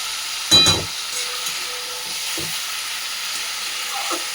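Onions frying gently in a pan over low heat, a steady soft hiss with one brief louder scrape of stirring near the start and a few faint clicks after, heard close by.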